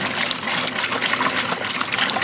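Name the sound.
hot water poured into bucket with washing soda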